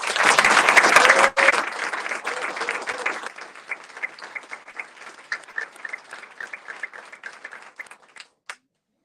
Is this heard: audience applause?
yes